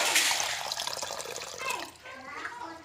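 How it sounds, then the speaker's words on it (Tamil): Hot water pouring into a bowl for soaking vada, a brief splashing rush under a voice speaking. "ஒரு பவுலில் சுடு தண்ணி ஊற்றி"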